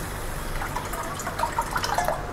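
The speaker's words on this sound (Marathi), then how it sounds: "आणि पाणी टाकून घेऊ आपण याच्यात." Water pours and trickles into a pot of sugar, soft splashing and bubbling that grows slightly toward the end, with no talking.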